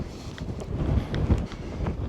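Strong wind buffets the microphone on an exposed Exmoor hilltop at Selworthy Beacon, giving a continuous low rumbling roar with gusty swells, close and fairly loud, with no talking.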